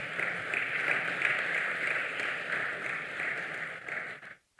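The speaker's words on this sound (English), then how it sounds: "Please welcome him with hearty claps." An audience at a university research and innovation week event claps to welcome a speaker to the stage, with sustained even applause that fades out abruptly at the end.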